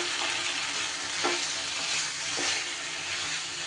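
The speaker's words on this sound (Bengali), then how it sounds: "মশলার সাথে গ্রেভির সাথে চিংড়ি মাছ খুব ভালো করে মিশিয়ে নেব।" Fried prawns being stirred into a masala gravy in a pan, a continuous sizzle and hiss with a few soft scraping spoon strokes, close and even.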